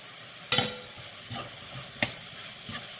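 Pink beans seasoned with sazonador and adobo are stirred in a pot, with a few distinct spoon scrapes and knocks over a soft simmering hiss, close and without talk.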